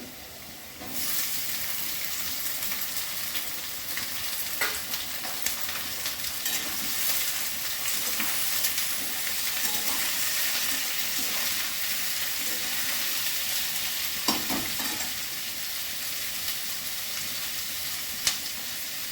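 Potatoes and onions going into hot oil for a jackfruit curry, a loud continuous frying hiss with rhythmic stirring scrapes and occasional clinks, close and with no talking.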